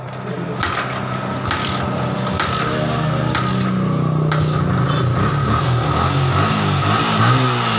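Yamaha Vixion motorcycle, its batteries removed and running only on the regulator-rectifier, is started and settles into a steady close idle, with mechanical ticking and a few sharp clicks early on.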